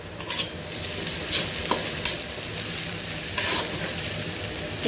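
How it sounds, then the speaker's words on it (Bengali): Onion and chili fry and sizzle in a pan, with a steady crackling hiss and occasional scrapes of stirring, close and loud with no talking. "এই তো পেঁয়াজটা এখানে ভাজা হচ্ছে"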